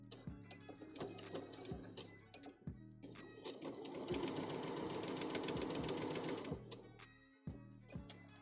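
A sewing machine stitching a Tohru cosplay costume runs in a steady, rapid mechanical whir for several seconds. Scattered clicks and handling knocks come before and after it, over a faint background tone.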